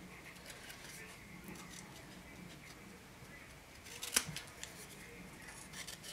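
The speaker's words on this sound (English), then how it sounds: "Take our scissors and cut our hat out" Scissors snip through paper, cutting out a small hat shape for a handmade sparkly bear card. The soft, steady cutting is close and quiet, with one sharper click partway through.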